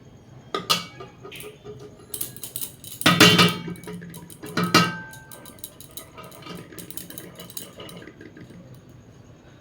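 Rice tips into a metal pot for chicken biryani, giving a few bursts of rattling, pouring grains and clinks of utensils against the pot, up close with quieter handling in between.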